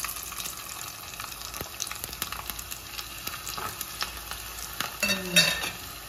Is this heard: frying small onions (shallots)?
yes